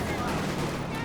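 Machine gun fire in Company of Heroes 2, a dense, loud rattle of rapid shots with no gaps over a short burst.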